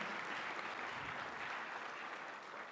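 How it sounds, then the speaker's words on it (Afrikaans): A church congregation in Benoni claps in welcome, steady applause filling the room for nearly three seconds without a break. "Julle kan vir hulle 'n hande klap gee."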